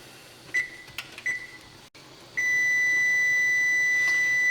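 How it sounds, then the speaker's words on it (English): A kitchen timer beeps at the stove while spinach wilts, two short beeps followed by a long, steady, continuous tone ringing out alone. "All right, there's the timer."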